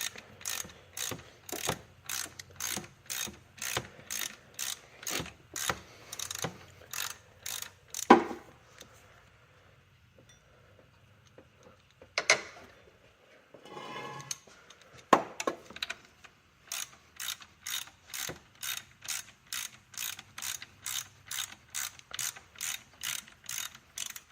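Ratchet clicks in steady rapid bursts as a bolt is backed out of the alternator on a 2011 Chevy Impala 3.5, close and loud, with short pauses and a few clunks between runs of clicking.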